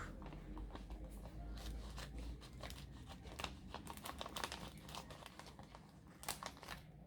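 Tape being peeled and pulled off a cardboard package, close crinkling and sharp tearing rips in irregular bursts, over a soft background hum.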